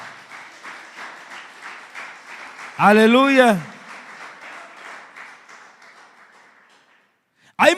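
A church congregation gives a short burst of applause as an offering of praise, loud but brief, set between a preacher's amplified speech and shouts, with another loud exclamation at the end.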